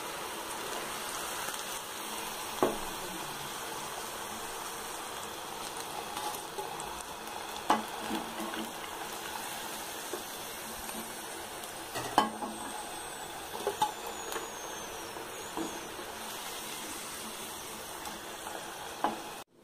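Aloo kebabs, spiced potato fritters, frying in hot oil with a steady dense sizzle and crackle, broken by occasional sharper clinks and scrapes as they are stirred and lifted out; no talk.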